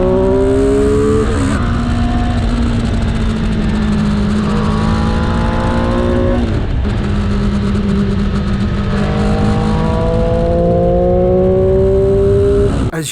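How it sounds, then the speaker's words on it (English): The engine of a Triumph Street Triple 765 R motorcycle on the road, loud and continuous as revs climb through several gear changes, heard steadily while riding. "it's a quick bike and it makes an absolutely glorious sound"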